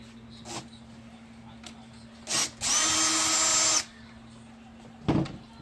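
Power drill undoing the screws on a 2014 Maserati Ghibli SQ4 headlamp: a short whir, then a steady loud whine lasting about a second, with faint clicks before and a brief knock after.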